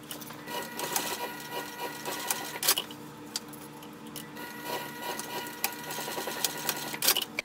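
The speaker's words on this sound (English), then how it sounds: "I'm just going to sew this 2 separate lines of stitching," A sewing machine stitching two lines on a wristlet strap, with rapid rhythmic mechanical clatter in bursts, brief pauses and close, moderate loudness.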